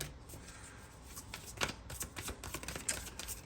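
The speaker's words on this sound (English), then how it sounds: "as I do this shuffle here" Tarot cards being shuffled, a run of crisp riffling flicks and soft slaps close by, with a few sharper card snaps in the middle and no talking.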